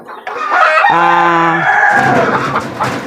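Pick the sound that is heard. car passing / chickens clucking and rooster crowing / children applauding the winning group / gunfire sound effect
chickens clucking and rooster crowing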